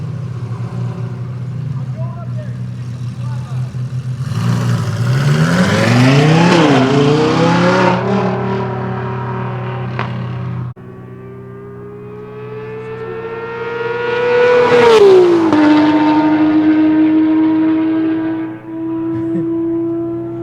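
A Lamborghini Huracan STO on a race track revs hard twice, its engine note climbing and howling loudly before dropping back to a steady idle drone between the pulls.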